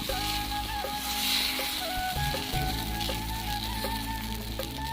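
Paratha batter ladled onto a hot pan with no oil, giving a steady, close sizzle that holds evenly throughout with faint clinks.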